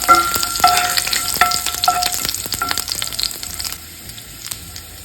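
Garlic and mustard seeds fry in hot coconut oil in a pan, a loud close crackle with sharp popping bursts and a steady sizzle that thins out toward the end.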